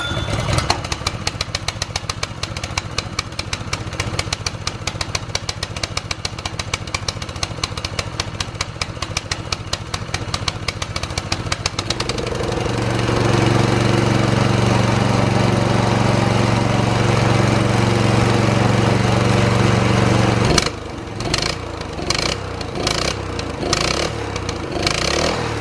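A DeWALT gas pressure washer engine cranks with a rapid rattling pull-start, then catches and runs steadily at a loud, even drone for several seconds before cutting out into a few sharp knocks.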